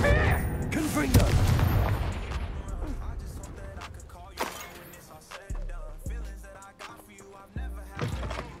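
Spell explosions booming in Hogwarts Legacy, a video game, as repeated Confringo blasts hit: heavy low thuds land in a string of sharp bursts over a busy background of game sound and music.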